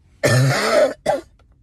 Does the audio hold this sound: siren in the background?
no